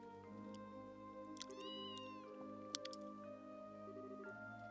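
A cat meows in the Trails in the Sky 2 video game: one clear, drawn-out meow near the middle, with a few softer mews, set over steady in-game background music.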